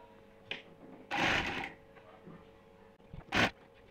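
A sewing machine stitches a cotton housecoat in two short bursts, one longer run and a brief one later, with quiet pauses between.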